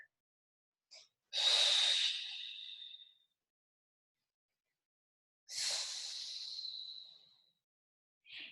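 Two long, close breaths during a forward fold stretch in a lower-body workout, each a strong airy exhale that fades out, separated by silence, with a brief sniff at the start and a short one at the end.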